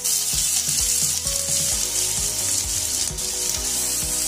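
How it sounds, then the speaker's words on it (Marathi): Two finely chopped onions sizzling in two spoons of hot oil for egg bhurji, a loud steady hiss broken by regular scraping strokes of a spatula against the pan. "2 कांदे आपण छान लाल भाजून घेऊया"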